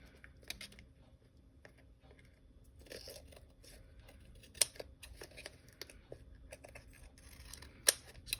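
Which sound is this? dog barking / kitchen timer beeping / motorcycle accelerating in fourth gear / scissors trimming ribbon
scissors trimming ribbon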